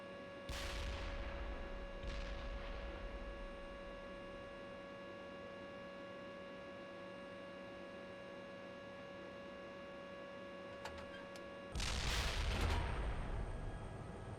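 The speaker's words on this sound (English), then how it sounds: "our mortar fire mission is complete" Mortar fire in the Steel Beasts tank simulation game sounds as a few muffled booming thuds, two near the start and a heavier one near the end, over a constant low electronic hum.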